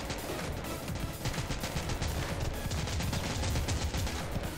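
Automatic weapon fire in the mobile shooter Modern Strike Online, dense rattling bursts running continuously and loudly throughout, with no voices over it.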